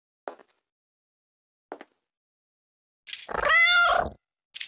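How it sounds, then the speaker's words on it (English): A cat in the puzzle video game Timelie gives a single drawn-out meow, clear and close, between a few short soft taps in otherwise near silence. "The only downside to a cat is it make noise."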